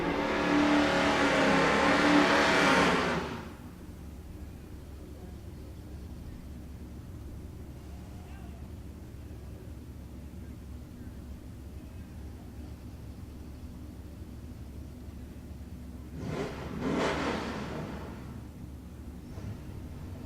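A drag racing car launches hard down the Ennis, Texas strip, a loud roaring burst in the first few seconds that cuts away, leaving low ambient rumble before a second shorter engine roar rises late.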